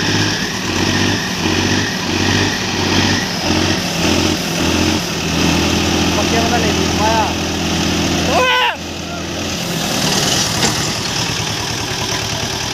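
A Swaraj 724 tractor engine idling and running loudly up close with a rhythmic chugging, briefly changing tone near the end, while a person talks over it.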